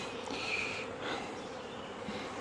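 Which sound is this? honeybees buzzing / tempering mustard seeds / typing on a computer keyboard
honeybees buzzing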